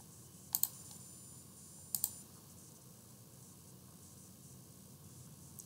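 Computer mouse clicking during work in UiPath's UI Explorer tool, two quick pairs of sharp clicks about a second and a half apart over a quiet, steady background hiss.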